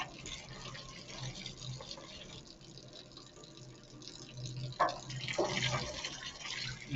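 A garden hose runs water to flush out an engine area during a valve cover gasket replacement, a low steady gurgle and splash that swells toward the end, fairly faint and without speech.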